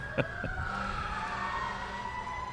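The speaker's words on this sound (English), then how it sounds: "if we've heard all these sirens" Emergency vehicle sirens wail during an evening holiday light-up parade, a steady, fairly distant tone slowly gliding downward, with a brief knock near the start and no talk over it.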